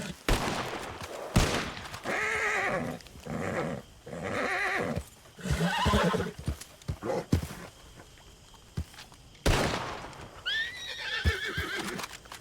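Sharp gunshots fired at a pumpkin in a Western role-play video game: a few loud separate shots among horse whinnies and clip-clop hooves, with voices in between.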